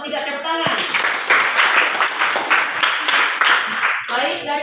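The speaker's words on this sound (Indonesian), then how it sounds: "Terima kasih untuk kelompok 3, tepuk tangan." A class applauds a student group, with a burst of many hands clapping close by in rapid, uneven rhythm between a teacher's speech at the start and end.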